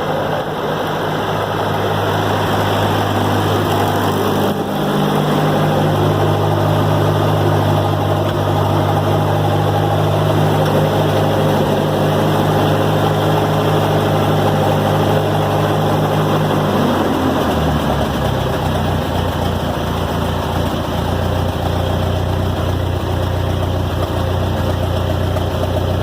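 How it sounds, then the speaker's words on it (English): An old Ferguson TO-20 diesel tractor engine idles after a cold start, a loud, close, steady low chugging that shifts pitch partway through and settles into a deeper idle near the end. "the old Ferguson fires right up normally every time"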